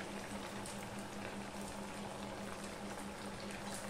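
Sweets frying in hot oil in a home kitchen, a steady dense sizzle and bubbling that continues evenly throughout at a low, quiet level with no talking.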